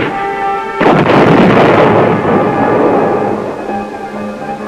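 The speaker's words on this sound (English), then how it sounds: "They respect the wallop of the recoilless rifle, the infantryman's close-in weapon against tanks." A recoilless rifle, an infantry anti-tank weapon, fires on a training range: one sudden loud boom that rolls into a long rumbling blast and slowly fades over several seconds.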